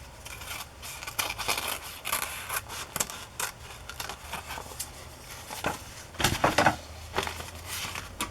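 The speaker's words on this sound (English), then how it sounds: "I'm going to trim this edge off." Scissors trimming the edge of fabric for a handmade book journal, a series of close, crisp snips and rustles with a louder cluster of cuts near the end, no talking.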